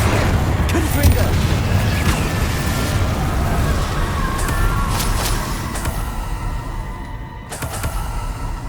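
A Confringo fire spell bursts in Hogwarts Legacy, a loud, dense explosive boom with crackling debris that rumbles on for several seconds before slowly tapering off.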